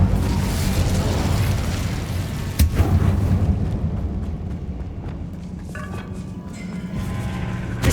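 Incendium fire spell cast in Hogwarts Legacy, a loud rumbling blast with a sharp burst near the middle, followed by fading crackle and fizzing sparks.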